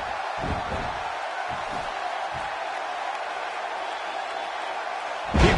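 Arena crowd noise from the WWE 2K16 wrestling video game, a steady broadband roar with a few low thumps, swelling louder right at the end.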